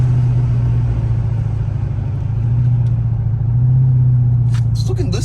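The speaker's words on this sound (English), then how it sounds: "Just listen to them downshifts." A 2023 Dodge Charger Daytona engine downshifting on the road gives a steady, loud, close low rumble with swells in pitch, then brief higher-pitched sounds near the end.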